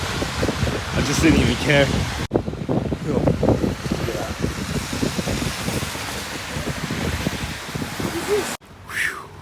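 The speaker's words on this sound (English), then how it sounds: "The wind is accelerating." Heavy wind blasts outdoors in dense, continuous gusts that buffet the microphone, loud and close, with a person talking through it and a brief cut near the end.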